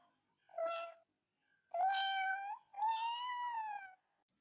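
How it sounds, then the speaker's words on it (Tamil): A kitten meows three times, close and clear, with short pauses between the cries and the later two calls drawn out longer. "முசு முசு பூனைக்குட்டி."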